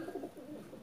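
An imported African Black Eagle utility pigeon giving a soft, low cooing, heard close and quiet in a very brief burst.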